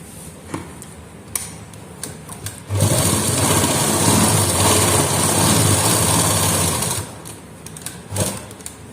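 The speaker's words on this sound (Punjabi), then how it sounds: "ਇਧਰਲੀ ਸਾਈਡ ਵੀ ਆਪਾਂ ਉਸੇ ਤਰ੍ਹਾਂ ਹੀ ਸਲਾਈ ਲਗਾਵਾਂਗੇ" A sewing machine stitches the long hem of a salwar. A few light taps come first, then a loud, steady mechanical whir runs for about four seconds before it stops. No one speaks.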